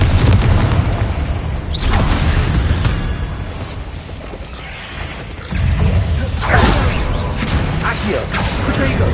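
Confringo blasting spells explode during a Hogwarts Legacy spider fight, several loud booming bursts mixed with clattering combat noise and magic effects, dense and close throughout.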